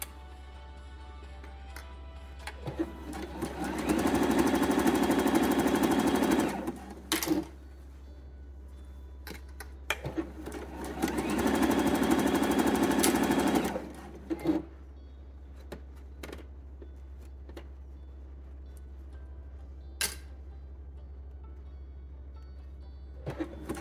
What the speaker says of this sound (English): So now I've sewn side seam to side seam